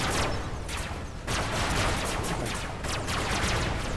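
Sustained gunfire from Robocraft, a robot-building combat game, crackles in a dense, rapid stream of loud, close shots, briefly thinning near the middle before resuming at full intensity.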